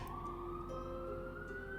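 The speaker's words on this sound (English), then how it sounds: "sorry for the siren in the background" A distant siren wails steadily in the background in New York, its pitch slowly climbing over a low traffic hum.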